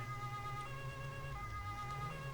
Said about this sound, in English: And now maybe I need to switch on the siren.